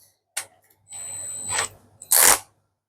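A cordless power drill driving valves into a fish and shrimp room setup gives two short whirring bursts with clicks and pauses between them, close and fairly loud.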